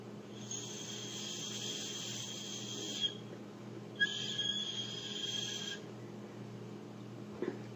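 Blowing across the top of a quarter-length drinking straw gives a thin, high, breathy whistle in two sustained bursts of roughly three and two seconds, soft against a quiet background hum.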